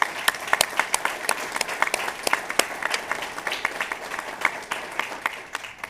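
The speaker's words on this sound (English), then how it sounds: "I'd like to just take a moment for us to give him a round of applause" Steady applause from a sizeable crowd at a Veterans Day parade, dense clapping with a few sharper individual claps standing out, continuing throughout.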